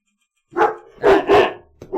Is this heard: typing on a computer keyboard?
no